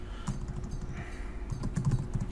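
Steady typing on a computer keyboard, a close, continuous patter of light key clicks over a low background hum.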